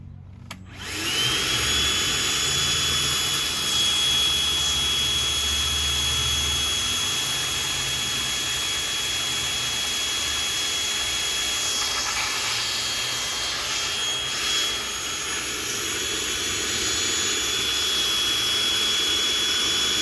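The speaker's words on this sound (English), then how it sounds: "we're going to try and vacuum out this water here" A loud, steady vacuum roar with a high whine, running continuously throughout with slight shifts in pitch as it sucks up water.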